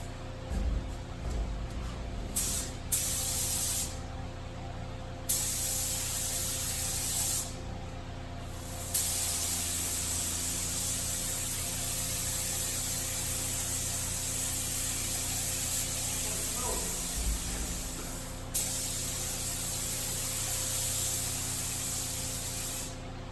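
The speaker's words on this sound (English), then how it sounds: "This stuff is ready to spray right out of the can. So I'm going to put 2 coats on" An aerosol can sprays dash pad coating onto a 1972 Buick Centurion dash pad, a loud close hiss held in long bursts with several short pauses and restarts over about twenty seconds, no voices.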